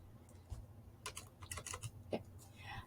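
Someone types on a computer keyboard in an irregular run of light, close key clicks and taps, fairly quiet, with no voices.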